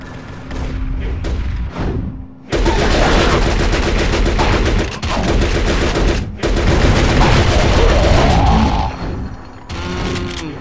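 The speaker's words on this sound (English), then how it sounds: "Who's using the minigun?" A minigun fires in the Turok Rage Wars video game, with loud, dense bursts of rapid gunfire in long stretches broken by short pauses, plus a few booming impacts and sweeping effects.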